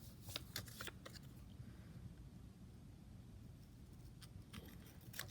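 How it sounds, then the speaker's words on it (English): Scissors cut a paper hat for a snowman craft, giving quiet, close snips and paper rustles in short clusters at the start and end, faint under a low background hiss. "So cut the hat."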